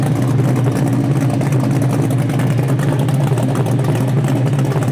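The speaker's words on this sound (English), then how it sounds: "Just feel that compression coming out of that exhaust." A 1969 Camaro RS/SS restomod idles close by, its exhaust giving a steady, low, throbbing rumble that holds even throughout with no speech on top.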